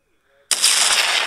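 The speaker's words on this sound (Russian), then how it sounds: "Это кассетная бомба вроде бы." Cluster bomb detonating in a Melon Playground-style sandbox game, a sudden loud blast after brief quiet that rolls into a dense, sustained crackle of many small explosions.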